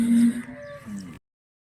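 A heavy, full-sized cow lets out a single loud, close moo lasting about a second, its tone sliding slightly as it fades, with a young calf nearby and nothing else heard afterward.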